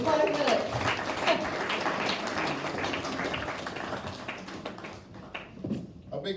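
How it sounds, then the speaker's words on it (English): An audience at a Guyana SPEAKS talk event applauds, a steady wash of clapping that fills the room and tapers off toward the end, with a voice speaking over it. "round of applause for Tooting Bec"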